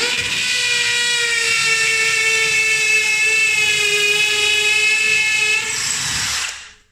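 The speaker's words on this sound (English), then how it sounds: "So I'll just drill." A power drill whines steadily at high pitch for about six seconds, close and loud, drilling a hole through skirting board, then winds down and stops.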